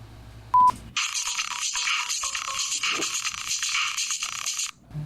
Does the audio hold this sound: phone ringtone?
yes